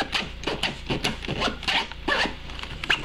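A zipper on a Nomatic accessory case is dragged open in short, scratchy, stop-start pulls, close and fairly loud as it catches around the edges, with no speech.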